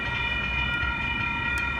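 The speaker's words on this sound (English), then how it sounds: "Oh, look, there's the train. The big train." A big train passes at a crossing in Churchill, a loud continuous rumble with a sustained high tonal whine or bell-like ring held steadily throughout, close by.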